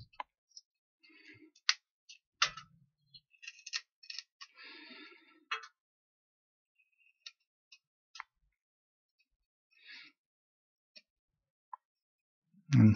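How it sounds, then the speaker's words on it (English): Small, sparse clicks and snips come from cutting away excess material on a model boat. They fall irregularly and sound close and faint against near silence. "I'll carefully by eye cut the excess away."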